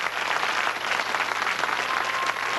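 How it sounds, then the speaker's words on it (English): A studio audience applauds a contestant on the 1970s game show Truth or Consequences, a broad, continuous roar of clapping that stays steady and full from start to finish, without talk. "watch him modestly accept the applause"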